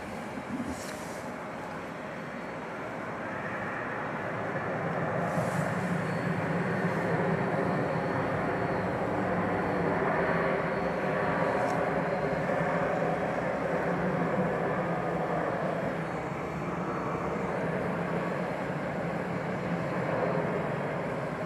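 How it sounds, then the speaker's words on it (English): A Boeing 747 airliner pushes back at DFW Airport at night, giving a steady, broad engine rumble and roar that builds slightly and holds at a moderate distance, with faint higher whines and clicks over it. "You might be able to see that the 747 just in front of us is backing out"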